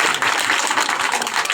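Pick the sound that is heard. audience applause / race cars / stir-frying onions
audience applause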